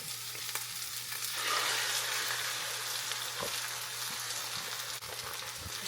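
An egg scrambled and frying in a pan before rice goes in, a steady soft sizzle with scraping stirs and an occasional clink of the utensil, fairly quiet and with no talk.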